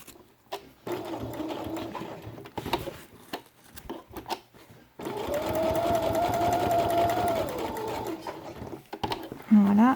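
A sewing machine stitching a felt quiet book page, running in short bursts then a longer steady whir, with brief pauses and a voice talking quietly between runs.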